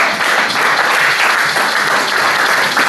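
A church congregation applauds to acclaim God, loud, dense and sustained clapping filling the space without a break, with no voices rising above it.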